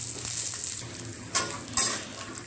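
Food fries quietly in a pan over a low flame, giving a faint, steady sizzle with a couple of sharp clinks from a utensil against the pan. No voices.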